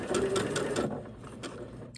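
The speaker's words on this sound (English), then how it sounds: "You can go ahead and lower the needle and then begin sewing." A sewing machine stitches quilt fabric, pieced rectangles joined to squares, its needle running in a steady rapid mechanical rhythm for about a second before easing off, close and clear with no talking.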